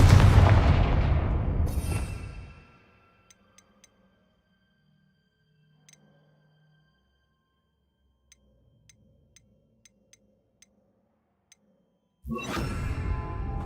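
A Confringo fire spell blasts in the Hogwarts Legacy game with a loud booming burst that fades over a couple of seconds. Faint ticks follow in near silence, then a second heavy blast erupts at the end.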